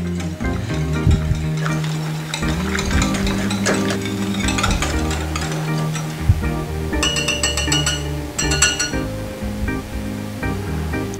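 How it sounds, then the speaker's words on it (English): A regular whisk scrapes and clinks in a bowl, mixing the wet ingredients for keto cupcake batter in a steady rhythm, close and fairly loud, with no talking. "I'm just gonna use a regular whisk for this part. See how this works. And get this mixed up nice and smooth."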